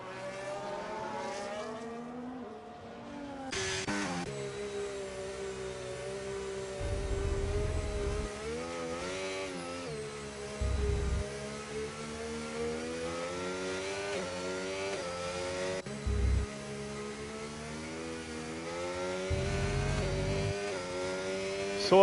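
Race cars in a racing video game lap Silverstone's reverse layout on intermediate tyres, engines droning and revving steadily with rising and falling pitch, occasional deeper surges from nearby cars, no talk.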